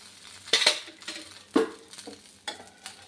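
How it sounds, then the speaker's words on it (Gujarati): Farali uttapam is flipped in a pan with a few distinct clinks and scrapes of a spatula against metal over a faint sizzle, close and without speech. "હવે આપણે એમાં થોડુંક તેલ લગાવી અને પલટાવી લેશું."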